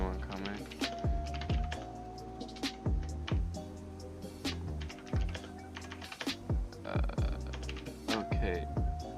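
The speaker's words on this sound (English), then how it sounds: "I'm gonna be typing a lot" Rapid computer keyboard typing while playing an Electric State DarkRP roleplay game, with bursts of sharp, close clicks over a steady background tone.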